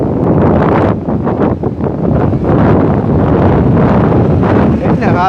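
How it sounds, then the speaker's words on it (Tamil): Strong wind blowing outdoors, heard as loud, steady roaring rumble buffeting the microphone, with a voice faintly mixed in. "என்ன காத்தடிக்கிறாப்பா"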